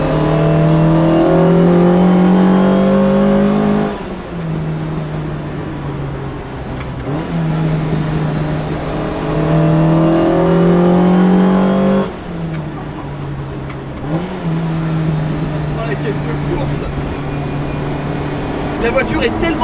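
A Lotus Exige S1 sports car engine revs hard toward 4500 rpm, rising tonal wails that climb, drop back and climb again in two loud pulls, heard from inside the car.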